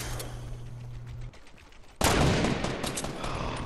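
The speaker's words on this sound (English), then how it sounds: "Ah, I got shot." Gunfire in the video game Fortnite: a steady hum gives way to a short quiet gap, then a loud, dense burst of rapid shots that rattles on to the end of the clip with no talking.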